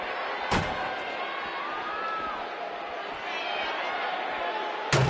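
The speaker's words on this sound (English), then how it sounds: "What an amazing force was behind that slam." A wrestling slam lands in WWE 2K17 as a sharp thud, with a second impact near the end, over a steady roaring arena crowd and commentary talk.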